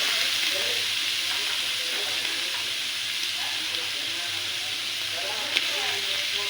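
Onions frying in oil for a chicken sausage dish, a continuous bright sizzling hiss close by, fairly loud and even, with a faint low hum beneath and one small clink near the end.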